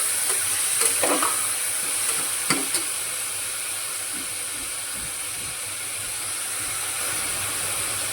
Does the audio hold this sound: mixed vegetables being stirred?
yes